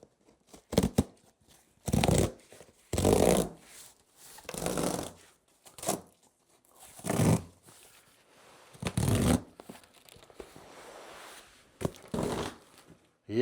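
Tab strip being peeled off the packaging of an Anycubic Kobra S1 Max large-format 3D printer after the foam is removed, heard as repeated rough tearing and rustling bursts, close and fairly loud, with short pauses between pulls.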